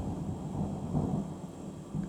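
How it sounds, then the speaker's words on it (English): Low, rolling thunder rumbles faintly in the distance in London, a soft continuous murmur with no voices. "we have some thunder, exciting."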